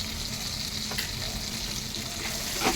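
Taro (kochu) frying in a pan with salt and turmeric, a steady sizzle with occasional scrapes of stirring, close and continuous with no talk.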